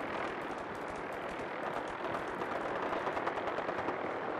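Dense, continuous gunfire in the video game Fallout 4, a sustained wash of rapid shots and rumbling blasts with no clear gaps, loud and steady throughout.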